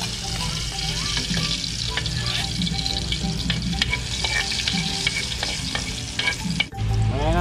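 Garlic sizzling and frying in hot cooking oil while a spoon stirs it in the pan, a steady close crackle with scraping strokes throughout and a sharp clatter near the end.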